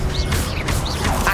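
Confringo blasting spell from Hogwarts Legacy, a loud burst with rising whistling streaks and sharp crackling hits repeating across the moment over a rumbling base.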